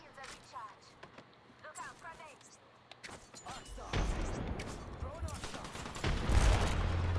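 Gunfire in the video game Apex Legends pops in sharp, scattered shots that build into a louder, denser barrage near the end, with voices talking faintly underneath.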